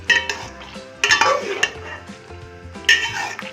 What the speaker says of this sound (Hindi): अब इसको भी साथ ही मिक्स कर देती हूँ।